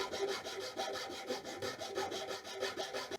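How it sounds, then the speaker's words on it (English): A light file rasps steadily across the corners of a wooden ferro rod handle, chamfering them in even, rhythmic back-and-forth strokes, close and alone. "we don't need to use a heavy file for this, we're just going to chamfer these corners"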